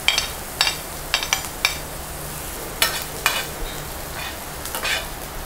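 Onion and green chili frying in a pan give a steady sizzle, broken by several sharp scrapes and clinks as a spoon stirs them, with no talking.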